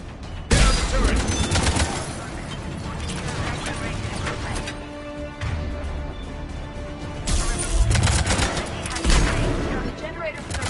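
Mass Effect 3 turret gunfire rattles in dense, continuous bursts under a loud, busy battle mix, with mechanical clatter and crashes layered throughout and brief swells in intensity.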